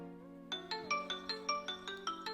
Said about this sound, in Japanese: このようにね、スマホを鳴らすことができます。